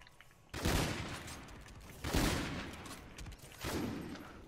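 Three loud sniper rifle shots are fired at a wall in a video game, spaced about a second and a half apart, each a sharp blast with a long rumbling decay, and no talk over them.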